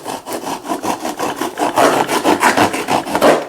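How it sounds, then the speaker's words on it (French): Knife blade slicing through a cardboard Lego box, a rapid run of close, scratchy rasping strokes that grows slightly louder toward the end. "je vais passer mon couteau à l'intérieur. découper la boîte de cette manière-là"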